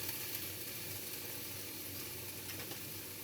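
Food sautéing in vegetable oil in a pan, a steady soft sizzle and crackle running through the whole stretch at low level with no talk.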